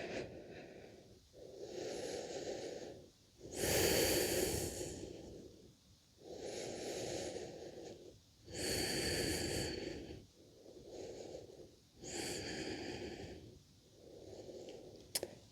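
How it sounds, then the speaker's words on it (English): Slow, deep breathing during a yoga flow, about six long inhale-exhale cycles in a steady rhythm, close and quiet with no talking. "And just breathing here."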